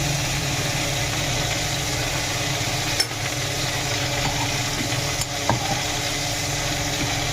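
Beans, green chillies and eggplant fry in a pan with a continuous loud sizzle, broken by a few sharp clicks as a utensil stirs them.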